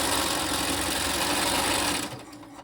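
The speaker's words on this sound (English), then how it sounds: "And then I'm going to fold these two and sew a 1/4 inch seam." A sewing machine runs steadily while stitching a quarter-inch quilting seam, a close, even mechanical whir that stops abruptly near the end.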